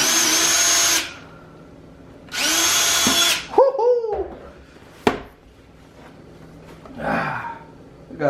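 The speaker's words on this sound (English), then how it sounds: "This got something I need to use the drill for?" A power drill spins up in two loud, close bursts while cutting into clear plastic packaging around a DJI Mavic Pro drone, followed by handling clatter, a brief vocal sound and a softer third burst.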